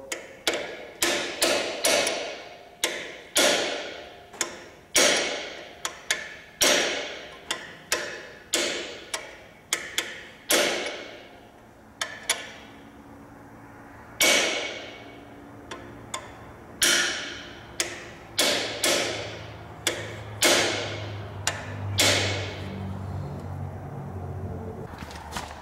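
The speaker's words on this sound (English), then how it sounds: "edge of that nut into that flat spot to lock the nut on there" On a Mahindra 8560 tractor, a hammer strikes the edge of a nut to lock it into a flat spot. The sharp metallic blows come close up in irregular bursts, with short pauses between groups and a faint rumble late in the clip.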